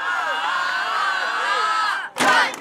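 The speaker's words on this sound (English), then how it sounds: "the celebration including this awesome rock cheer" A water polo team's celebratory rock-style cheer after a 9-4 win: a sustained, loud chorus of many voices shouting together, breaking off briefly before a second burst of group yelling.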